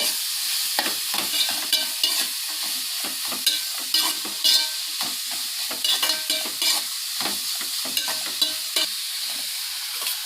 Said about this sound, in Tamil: அதுக்கப்புறம் ஒரு 5 பூண்டு எடுத்து உள்ளே போட்டாங்க. நல்லா வதக்கிடுங்க.